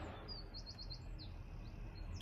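Several high, thin bird chirps repeat in a quick series above a steady rumbling background, fairly faint and distant.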